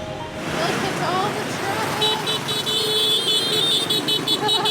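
Busy Ho Chi Minh City street traffic forms a dense wash of passing motorbikes and cars, with a continuous roar and brief high tones that may be horns.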